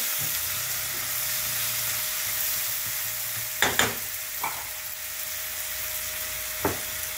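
Onions frying in a pan give a steady sizzle up close, broken by a few sharp clatters of a utensil against the pan.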